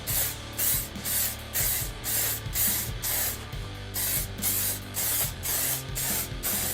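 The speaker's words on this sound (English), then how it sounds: "So now time to apply the lacquer. Same principles, I'm just using a clear lacquer." Clear lacquer is sprayed onto the headstock of a Squier by Fender Mustang guitar in short, even aerosol bursts, about a dozen hissing passes in steady rhythm, close and loud with no talking.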